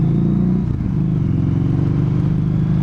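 A Harley-Davidson cruiser motorcycle engine thrums steadily while riding, a deep, even low rumble with a brief dip near the start, close and continuous with no talk.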